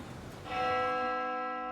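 A clock tower bell in the horror video game Death Mark 2 strikes once after a short pause, its bright metallic tone ringing out and slowly fading at moderate volume.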